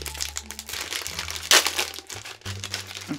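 Crinkling plastic wrapper of an almond snack being torn open, close and loud with scattered crackles and one sharp tearing burst midway.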